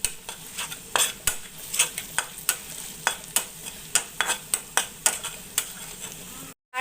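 Onions with red chili powder fry in a pan while a spoon stirs them in steady, evenly spaced scraping strokes over a low sizzle. The scraping stops for a moment just before the end.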